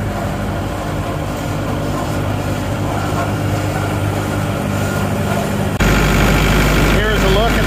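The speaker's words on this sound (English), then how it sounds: "Just a smooth running combine." A Massey Ferguson Kincaid 8XP combine engine runs smoothly with a steady, heavy rumble close by, getting louder and deeper toward the end.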